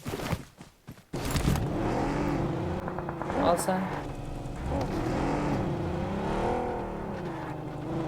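A car in the PUBG Mobile video game starts up and drives, its engine droning and revving steadily, with players talking over it throughout.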